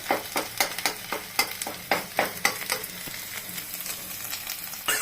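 Cauliflower mixed with egg frying in oil for bhujia, a close sizzle with regular scraping stir strokes at first, then a quieter steady frying hiss, with no talk.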